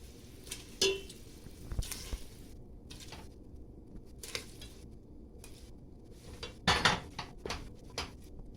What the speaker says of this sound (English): Then cover up my pot and allow it to boil.